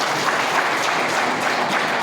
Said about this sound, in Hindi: इसलिए जोरदार तालियां हो जाए।